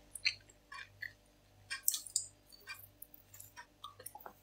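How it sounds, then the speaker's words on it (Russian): A woman eats food at close range, with moist, squishy chewing and small clicks in an irregular rhythm. The sounds are quiet and come without speech. "что я на камеру кушаю"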